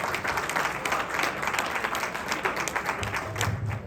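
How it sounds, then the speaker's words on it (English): Audience applause fills a breakfast event hall, steady clapping from a crowd throughout, fairly even in level from start to finish. "Please give a round of applause to our outstanding friends in government as well."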